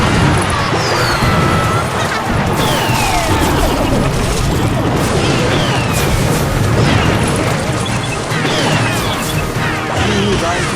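Firecracker troop attacks in the mobile strategy game Clash Royale, a dense, continuous barrage of loud crashing booms and popping bursts layered with game effects, no gaps throughout.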